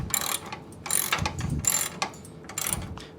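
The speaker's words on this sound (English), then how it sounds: "so this is getting tightened down" A bolt on a 1Up hitch bike rack is tightened down with a ratcheting tool, giving several loud close bursts of rapid clicking with short pauses between strokes.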